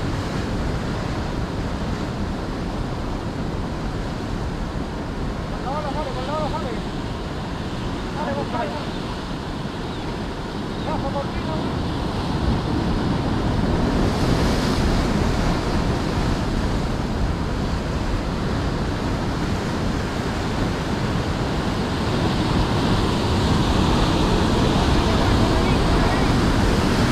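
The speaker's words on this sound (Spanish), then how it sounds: "Espérate con la ola." Ocean waves break on the shore in a loud, continuous roar that swells toward the end, with faint voices in the background.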